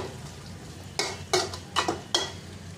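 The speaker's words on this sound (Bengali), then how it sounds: "আলুকে একটু ভেজে নিব আমি এখানে কিছুক্ষণ, 2 minutes fry." Potatoes frying in a pan are stirred in four distinct scraping strokes, each a short clatter over a faint, steady background sizzle.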